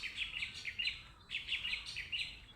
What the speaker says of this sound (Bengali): পিছনে পাখির কিচিরমিচির